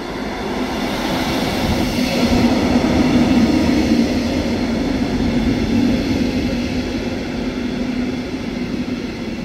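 A regional RE2 train runs steadily, a loud continuous low rumble and rolling rattle that swells slightly in the middle, heard from inside with no talking.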